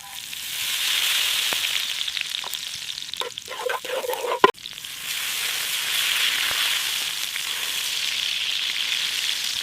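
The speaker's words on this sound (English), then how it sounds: "Listen to that sizzle." Steak sizzles in butter with fresh herbs in a pan over a campfire, a steady close frying hiss with a brief stir and clatter midway, no talking.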